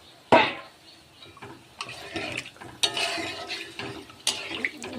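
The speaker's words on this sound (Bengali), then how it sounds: "এবার আমি জল ঢেলে দেবো।" Water splashes into a pan of spiced potatoes and onions with a sharp hiss at first, followed by clanking utensil knocks and sloshing stirring sounds, close and fairly loud.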